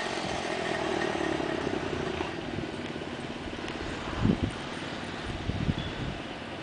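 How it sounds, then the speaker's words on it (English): A small motorcycle engine drones steadily at a street racing scene in Providence, a buzzing hum heard from a short distance with wind noise and a couple of brief clattering bumps. "That little bike is crazy"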